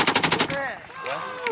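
Enemy machine-gun fire during a firefight in an open, muddy field, with a rapid burst of loud shots followed by scattered echoing cracks and whistling tones.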